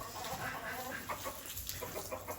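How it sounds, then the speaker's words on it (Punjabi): Chickens cluck on a farm where hens and turkeys roam, soft overlapping clucks and short calls against a constant background hum, faint and without speech. "ਸਾਰੀਆਂ ਕੁਕੜੀਆਂ ਸ਼ੁਕੜੀਆਂ ਟਰਕੀ ਬਰਡ ਇੱਥੇ ਤੁਰੇ ਫਿਰਦੇ ਰਹਿੰਦੇ ਆ"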